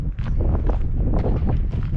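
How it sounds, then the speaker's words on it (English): Gusty wind buffeting a microphone outdoors in Pioche, Nevada, a continuous low rumbling roar with uneven thumps and surges throughout. "But it's just so damn windy. It's hard to really get some good audio."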